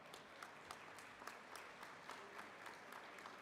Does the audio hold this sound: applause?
yes